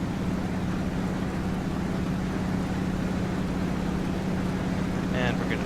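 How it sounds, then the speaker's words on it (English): A T-6 Texan's radial engine in a flight simulator run up toward 2000 RPM, giving a steady, loud droning hum that holds constant throughout. "we can go ahead and push up to"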